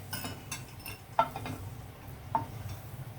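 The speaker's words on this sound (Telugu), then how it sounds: "ఈ జీడిపప్పులు తీసేద్దాం మనం ఇప్పుడు ఒక గిన్నెలో" Cashews fried in ghee are lifted out into a bowl, with a few sharp metallic clinks of a spoon against the vessel and a soft scraping over a faint background hiss.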